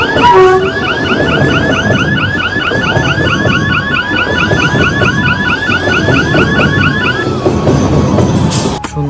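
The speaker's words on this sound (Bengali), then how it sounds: "ট্রেন যাচ্ছে" A train rumbles past loudly and close by near a temple, its steady roar filling the whole stretch, with a repeating warbling alarm-like tone above it.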